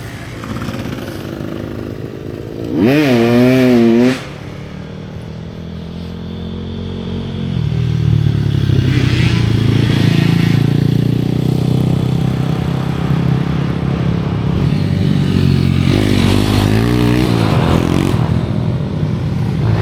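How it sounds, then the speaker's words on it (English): Motorbikes riding forest trails in Sherwood Forest, their engines droning steadily at a distance and swelling louder as they pass, under continuous outdoor noise with a brief harmonic whine early on. "You can hear the blooming motorbikes again, wrecking all the trails."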